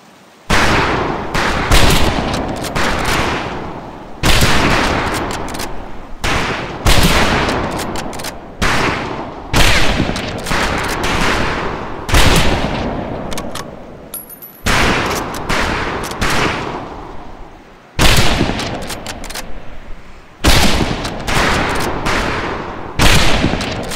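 Repeated rifle shots at a training range in the Pacific Assault game, loud sharp reports fired in irregular clusters and volleys throughout, each burst followed by brief pauses, with no talk.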